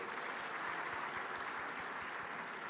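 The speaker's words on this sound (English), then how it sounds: "Give yourselves a round of applause." A large audience at a business conference in a hall claps steadily for a few seconds, a dense, even roar of applause with no speech over it.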